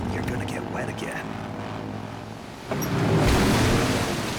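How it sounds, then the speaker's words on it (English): Waterfall in Metal Gear Solid 3, a broad steady rushing roar that surges louder partway through, following a stretch of low ambient noise with a faint voice. "enjoy the sound of the waterfall"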